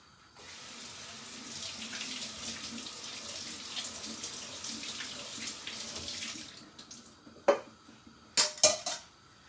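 Tap water running over cranberries in a kitchen sink, a soft continuous splashing rush for several seconds, then stopping, followed by a few light clinks and knocks of dishes.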